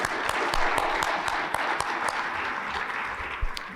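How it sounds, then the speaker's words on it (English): Indoor audience applause at a talk on addiction, a brief burst of many hands clapping together that stays strong and fades slightly toward the end. "Let's give him another round of applause."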